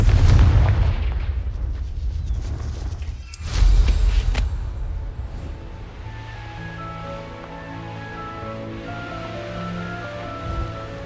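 A fire-spell explosion in Hogwarts Legacy: a loud, booming blast with a rumbling tail opens the clip, followed by a second crack, then settles into quieter game ambience with sustained tones.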